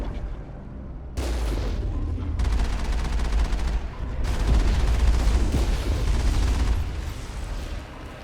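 The Mako vehicle's mounted gun fires in Mass Effect during a planetary combat landing, producing heavy repeated booming shots with rumbling low-end impacts that come in sustained bursts and then taper off.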